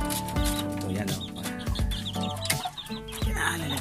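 A large Peruvian-breed rooster clucks in short bursts close by, with clattering and someone talking over it.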